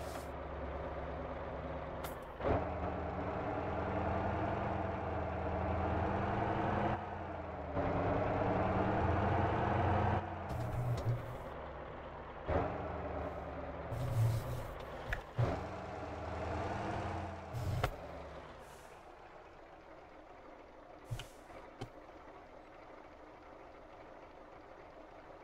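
A truck engine in the Motor Town driving game idles and revs in uneven surges while being parked, with air-brake hisses and clunks breaking in before the motor drops to a quieter idle.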